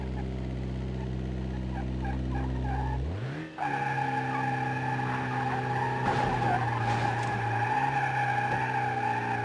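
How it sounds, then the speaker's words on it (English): Gasoline Audi Q7 in BeamNG.Drive spinning its wheels while pulling heavy trailers, a loud continuous engine drone with tyre squeal that shifts pitch partway through and then holds a steady, strained tone. "The engine has some power, but it can't put it down. Its wheels spin a lot"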